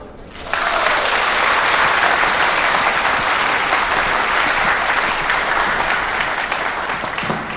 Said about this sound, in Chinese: 下面就让我们用掌声欢迎陆教授